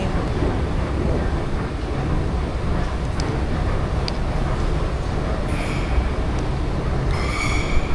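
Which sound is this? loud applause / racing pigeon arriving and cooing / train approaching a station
train approaching a station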